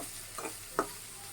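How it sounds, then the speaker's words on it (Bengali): Sweet pumpkin fry in a pan, stirred briefly: faint sizzling with two soft scrapes of a spoon, the second slightly louder. "এখন আমি এটা একটু লাড়াচাড়া করে নিব"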